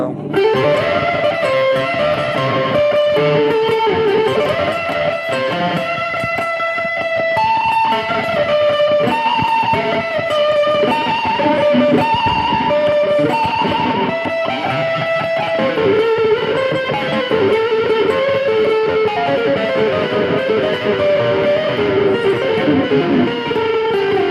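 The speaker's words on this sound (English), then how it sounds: "I try to use this sound, delay and distortion" Electric guitar playing a reggae-style melodic line drenched in distortion, with repeating delay echoes trailing each note, loud and continuous throughout.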